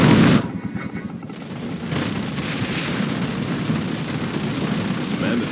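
Rapid bursts of gunfire crackle over dense rumbling explosions and game effects in a Command & Conquer 3: Kane's Wrath skirmish, loud and continuous throughout.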